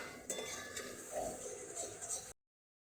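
Papaya kofta curry masala with a pinch of sugar stirred in a pan, producing close spoon scraping and clinks over a light frying hiss for about two seconds before cutting to silence.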